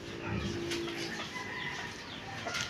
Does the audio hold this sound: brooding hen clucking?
yes